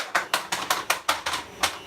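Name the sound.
stabbing open a vacuum-sealed filament bag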